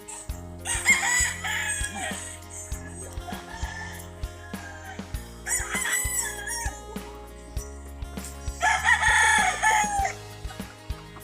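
Roosters on a gamefowl farm crow several times in turn at moderate distance, with softer clucking between the calls and little else around.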